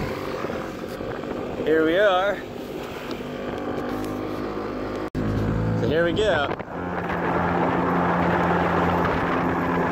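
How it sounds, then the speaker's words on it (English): A small engine on a homemade hydrofoil kayak runs steadily with a droning hum throughout, while someone speaks over it in two short bursts partway through. "Here's the engine."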